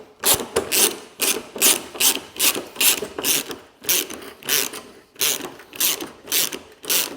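Bolts being undone on the front bumper of an MG ZS 180 with a ratchet: rapid rhythmic clicking bursts repeat steadily and close up, with no talking.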